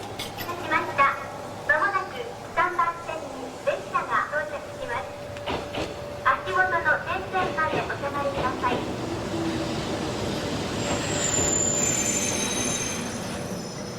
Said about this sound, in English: a spotless train arrives at a spotless platform, spot on time.